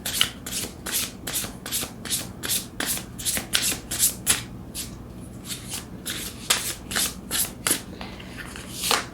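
Oracle cards are shuffled in a quick run of crisp riffling bursts, steady and close, with a brief pause midway before the rhythmic shuffling resumes, no talking.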